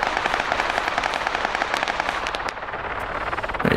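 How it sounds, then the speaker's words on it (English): A rifle fired into the air in the military game Arma 3 on the island of Paros, a steady stream of rapid crackling shots across the whole stretch at moderate loudness, with no talking. "No, I'm not shooting at you, I'm just shooting up."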